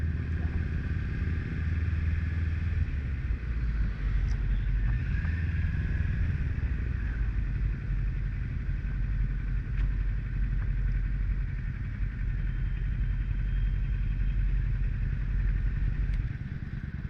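A motorcycle engine idles steadily with a low, rumbling chug and faint clatter, holding the same level throughout with no speech.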